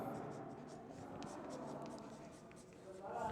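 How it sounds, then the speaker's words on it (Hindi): Pen writing on paper during a geometry construction exercise, a faint steady scratching with soft stroke clicks, close and quiet beneath low room noise. "तो यहाँ लास्ट में लिखेंगे इस प्रकार"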